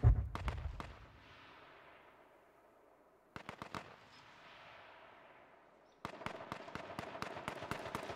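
Gunshots in a battle royale video game match, fired in the smoke: an opening burst, a quiet stretch, then a short cluster of shots and a steady run of rapid fire, fairly faint and distant with no voices.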